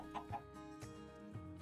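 Minecraft chickens clucking in a few short, close bursts, with steady game background sound in between.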